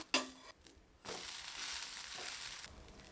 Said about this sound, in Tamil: சுற்றிலும் கொஞ்சமாக எண்ணெய் விட்டுக்கலாங்க தோசை வெந்துருச்சுங்க திருப்பி போட்டுக்கலாம்